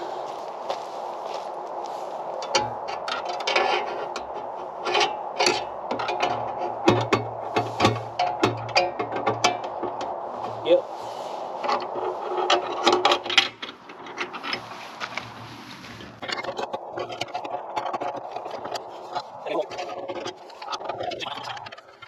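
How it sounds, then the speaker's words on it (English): A screwdriver works at screws on an Evolution S380CPS metal chop saw, giving close, irregular scraping, clicking and tapping that comes in bursts and pauses, with no talk. "I think I can get a screwdriver in here."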